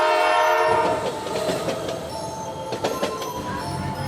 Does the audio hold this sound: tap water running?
no